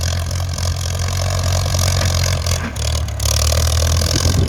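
A Ford farm tractor engine runs steadily nearby, working hard ground, a loud, constant low rumble with clattering mechanical noise and a brief dip partway through.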